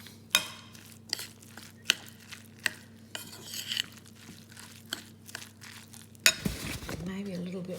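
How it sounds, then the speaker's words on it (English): Celeriac fritter batter made with plain flour and egg is stirred in a bowl, giving regular sharp clinks and scrapes of a utensil with soft wet mixing between them. A louder rattle and a brief voice come near the end. "I'm going to stir it all up."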